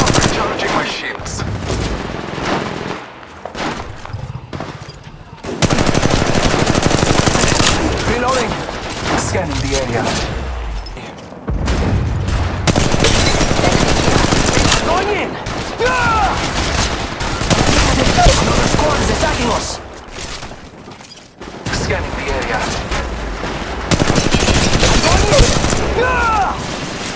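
Heavy gunfire in an Apex Legends Mobile firefight, dense bursts of automatic shots and booms in several long loud volleys separated by short lulls, mixed with game voice callouts.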